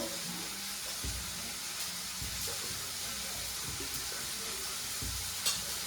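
Coriander-cumin powder and chili powder sizzle in a little hot oil for ragda, a steady close frying hiss with a few stirring scrapes and knocks, no talking.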